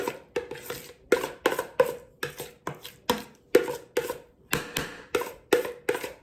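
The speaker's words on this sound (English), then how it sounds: "Sorry about the scraping, y'all." A utensil scrapes and knocks against a pan or dish while salmon loaf is prepared, a close, sharp series of about twenty quick rhythmic strokes in irregular clusters with no talking.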